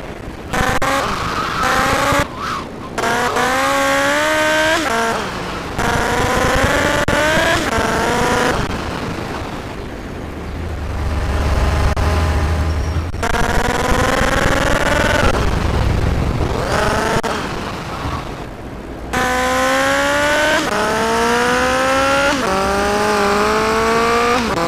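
A car driven in the video game GTA: Liberty City Stories roars loudly and continuously, its engine pitch rising and falling through gear changes, with tire squeal and busy traffic noise mixed in.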